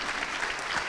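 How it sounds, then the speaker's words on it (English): Audience applause for guest speakers at a school awards ceremony for National Thank A Teacher Day, dense steady clapping filling the room for about a second with no voices. "So a round of applause for our guest speakers and Pearson's."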